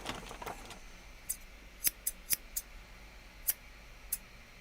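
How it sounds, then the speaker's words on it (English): Scissors snip in a quiet room, several short crisp metallic cuts spaced irregularly over a few seconds, faint background hiss, no talking. "The scissors, right?"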